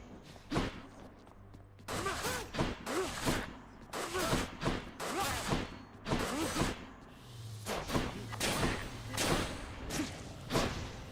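Gunfire from a weapon in the video game Hades comes in a rapid run of punchy sharp bursts, fairly regular and close, with short pauses between volleys and a low background hum.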